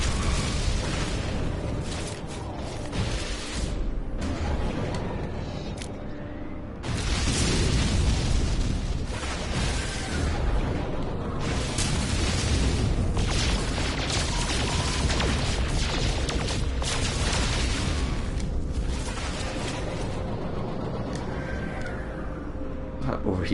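Photon cannon fire from a ship in the space game No Man's Sky, a dense run of rapid bursting blasts over a steady roar, loud and continuous, with a voice speaking over parts of it.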